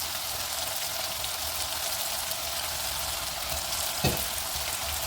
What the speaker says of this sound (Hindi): अब मिर्चें जो हैं वो पकना शुरू हो गई हैं